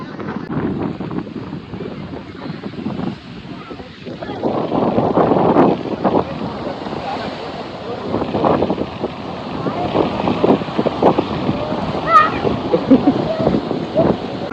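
Boat travelling on the open sea at night, with steady wind buffeting the microphone and a continuous broadband rush of water and engine, people talking intermittently over it.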